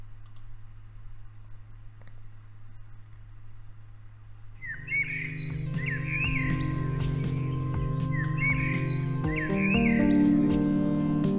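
Birdsong samples chirp and tweet in repeated bright bursts over a music track with double bass and guitar, entering about halfway through after a quiet low drone and sitting clearly in the mix.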